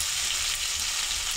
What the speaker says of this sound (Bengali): একটু লাল লাল করে ভেজে নিচ্ছি